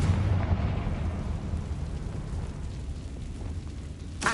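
A Confringo explosion spell goes off in the video game Hogwarts Legacy, a deep, rumbling blast that lingers as a low roar before fading, with a faint crack near the end.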